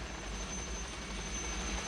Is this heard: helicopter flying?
yes